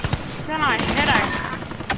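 Gunfire in the video game Call of Duty, a dense burst of shots with bright sweeping game effects over it, fairly loud and continuous through the short moment, without talk.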